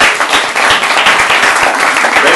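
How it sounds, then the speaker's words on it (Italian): Audience applause welcoming a chef on stage at a 2019 Italian gastronomy week event: dense, steady clapping from a large crowd, loud and close, filling the whole moment without pause. "Az iménti taps az igazi sztárnak szól, Cristina Bauermannnak"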